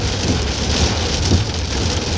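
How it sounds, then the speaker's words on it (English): Heavy rain coming down hard outdoors, a dense, steady close hiss of drops drumming on surfaces throughout, with no voices over it. "And it's raining, so I hope y'all can hear me clearly. And it's coming down hard."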